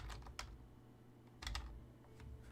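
Quick bursts of keystrokes on a computer keyboard, typed in short clusters with pauses between, close and fairly quiet with no talking.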